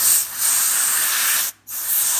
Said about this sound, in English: So you just get your can of air and you just blow.